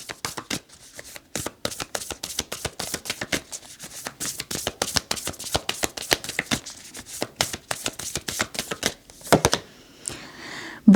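Oracle cards are shuffled by hand in a long, steady run of close, crisp riffling slaps, ending with a few softer handling sounds as cards are drawn.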